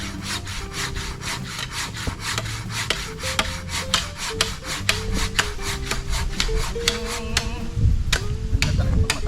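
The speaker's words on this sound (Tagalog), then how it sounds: "Ganda talaga pag matalas ang itak mo." A steady run of rhythmic rasping strokes as a sharp bolo (itak) cuts through wood during fence building, loud and close with quick repeated scraping.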